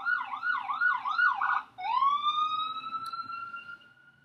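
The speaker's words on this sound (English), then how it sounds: "The ambulance is running his lights because he doesn't want to wait in traffic." An ambulance siren sounds in traffic, loud and close, with a fast warbling yelp that shifts into a long, steady rising wail. No voices are heard.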